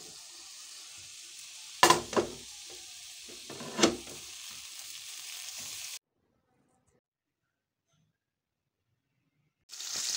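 Capsicum frying in oil in a pan, a soft steady sizzle with two louder stirring clatters, then sudden silence before the sizzle returns at the end.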